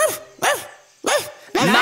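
A cartoon dog barks in a children's song, giving four sharp, loud barks spaced evenly apart with short silences between them.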